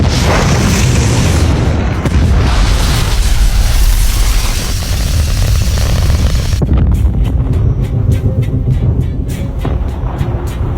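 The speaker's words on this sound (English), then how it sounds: "At the same time, 2 interceptor missiles are launched." Two interceptor missiles launching in a film sound effect, a dense, loud roaring blast that holds for several seconds, then cuts to a thinner rumble with rapid rhythmic ticking.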